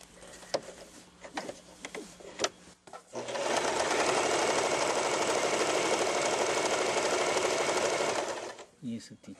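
Swiss-made Elna 1000 sewing machine running a continuous stitch for about five seconds, a loud, close mechanical whir after a few clicks and handling noises, with a voice speaking before and around it.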